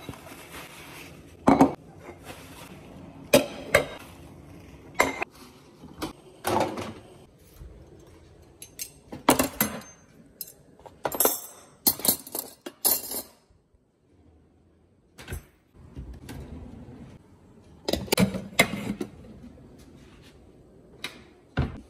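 Dishes, pots and cutlery clink and clatter in bursts while a kitchen is tidied up after cooking monggo and steak, sharp nearby knocks and rattles separated by short quiet gaps.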